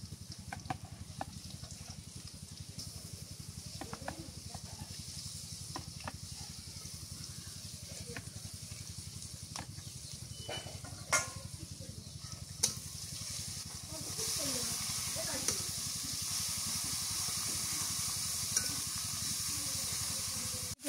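Chilli with garlic and onion paste frying in a pan for a Bangladeshi bhuna of river fish; a steady, close sizzle and hiss runs throughout and grows louder and brighter in the last few seconds.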